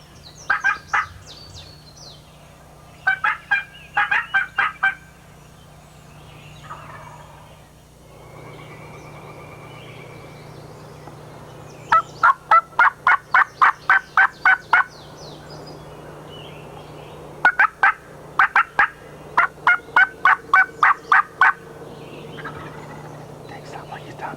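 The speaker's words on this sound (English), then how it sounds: "Sounds like there's a hen wrapping around on the other side here." Wild turkey calling at the edge of a woods beside an electric fence, repeated bursts of sharp yelps in quick series separated by pauses, moderately distant over a steady outdoor hum.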